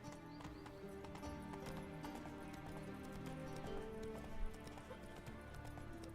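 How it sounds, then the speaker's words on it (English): Horse hooves clip-clop in The Witcher 3 as the mounted hero rides, a steady quick trot over continuous game ambience, moderately near and fairly faint, with a brief louder accent near the end. "Magic horse. Come on, Roach"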